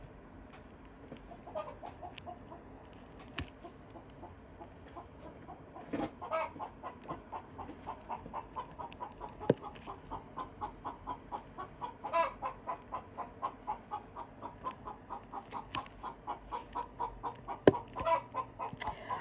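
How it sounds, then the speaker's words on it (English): Backyard chickens cluck steadily in the background, a soft continuous chatter of repeated clucks with occasional louder calls over a quiet outdoor ambience. "Can you hear the chickens in the background?"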